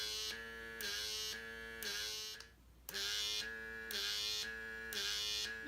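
An electric lip plumper device buzzes in steady rhythmic pulses, each loud electric drone broken by short gaps, with one longer pause midway, close and alone.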